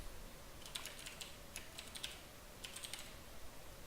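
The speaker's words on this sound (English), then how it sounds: "as long as I keep typing, it shouldn't log anything" Steady typing on a computer keyboard, with bursts of light key clicks in a quiet room and no voices.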